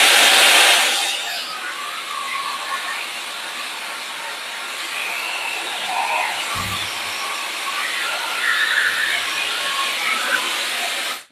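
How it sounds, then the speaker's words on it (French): A high-speed hair dryer blows steadily while drying hair, a loud, continuous broadband airflow with slight shifts in tone as it moves, running alone without speech. "Je vais finir avec un souffle froid, enfin du moins à température ambiante parce qu'il n'est pas vraiment froid sur aucun de ces deux sèche-cheveux"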